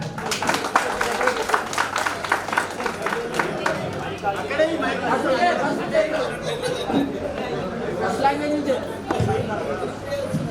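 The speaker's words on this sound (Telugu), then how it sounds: "క్లాప్స్." A school audience at Santhinikethan High School breaking into applause, a rapid patter of many hands that fades into murmuring crowd chatter and voices.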